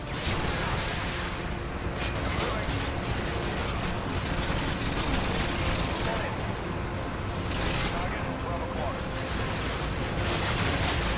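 Dense, relentless gunfire and explosions in the Call of Duty: Modern Warfare 2 campaign, continuous loud volleys of rifle and machine-gun fire with heavy blasts filling the whole stretch.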